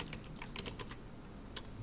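Keys on a computer keyboard are tapped in a quick, uneven run of light clicks, soft and close, with no talking.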